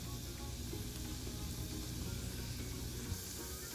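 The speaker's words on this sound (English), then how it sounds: "I'm going to add minced garlic. And let it fry." Minced garlic and thyme leaves sizzle steadily in a hot pan, a dense, continuous frying hiss that stays loud and even throughout with no talking.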